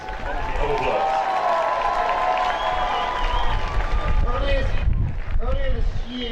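Football stadium crowd applauding and cheering the Honda All-Stars, a dense, steady roar of clapping and crowd noise throughout, with a public-address voice carrying over it.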